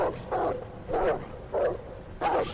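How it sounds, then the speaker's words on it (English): A werewolf in the video game Werewolf: The Apocalypse Earthblood barks on command, four evenly spaced gruff barks, moderately loud over a low background. "I can bark though."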